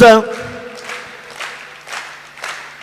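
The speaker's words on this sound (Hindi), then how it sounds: "देखो कुर्सी, तालियां मिलके, हाँ वाह वाह वाह।" Clapping and cheering from a crowd at a Hindi comic poetry recital. It starts as a brief loud burst, then comes in several softer, uneven waves that fade over about three seconds.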